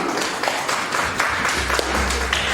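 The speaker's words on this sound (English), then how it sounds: "let's give them a round of applause as they come" Audience applause at a Ghana gathering on Bitcoin and women's financial freedom: steady, dense clapping from a crowd, moderately loud and continuous, with a low hum entering toward the end.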